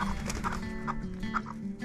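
Chickens cluck and fuss nearby at an off-grid homestead, with a few short rounded clucks spaced through a busy, rustling background and no talking.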